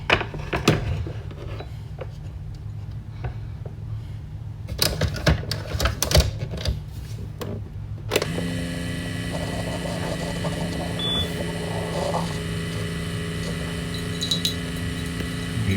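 A Keurig K Select coffeemaker runs a descaling rinse, its steady mechanical hum and gurgling flow starting abruptly partway through after a stretch of clicks and handling clatter.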